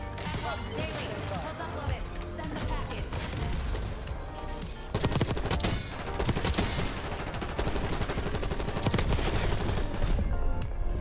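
Rapid automatic fire from a Krig C assault rifle in Black Ops 6, dense bursts running throughout at steady volume and growing louder partway through, layered with game effects.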